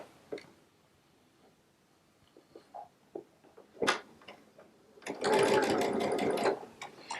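A Baby Lock Solaris sewing machine stitches quilt block seams with a 1/4-inch piecing foot, giving a short burst of rapid close whirring after scattered quiet handling clicks and taps.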